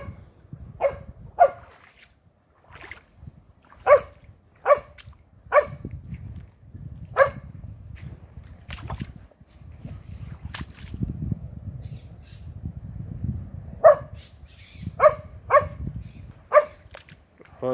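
A dog barking near a mangrove with muddy pools, a series of sharp barks in bursts spread over the stretch, fairly close, against a low background rumble with no talking.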